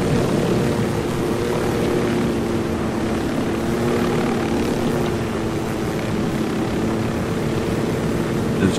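A helicopter circling in the video game Ghost Recon Wildlands, its rotor and engine drone steady, loud and continuous throughout, with no speech.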